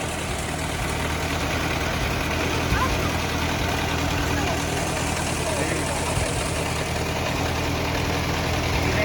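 A vintage car engine idles steadily while warming up before a Barcelona–Sitges rally, a loud continuous rumble nearby with people talking over it.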